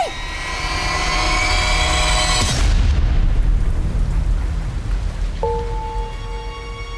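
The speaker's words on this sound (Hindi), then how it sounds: "चल घर चल, बहुत बारिश हो रही है।" Heavy rain pours steadily at night, a dense broadband wash that swells into a deeper rumbling roar midway, with a sustained tonal hum entering near the end.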